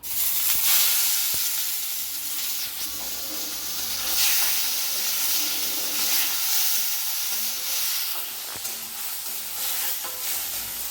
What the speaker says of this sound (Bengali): এবারে ঝিনুকটা কড়াই দিচ্ছি, দিয়ে একটু তেল দিয়ে নেড়ে নেবো।